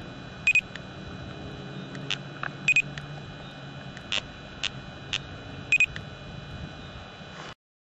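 A radar detector on a car windscreen emits sharp, bright electronic beeps in short clustered bursts as laser shots are fired across the front, spaced irregularly over a steady low cabin hum before cutting to silence.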